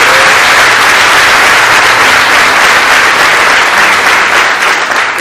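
A church congregation applauding during a communion service, loud, dense and sustained clapping from a large crowd filling the room without a break.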